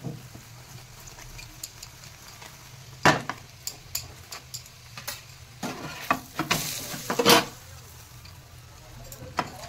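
Cauliflower paratha sizzling on a hot pan as butter is added, with quiet crackling broken by two loud bursts of hissing spatter and some utensil scrapes and clinks, no talking.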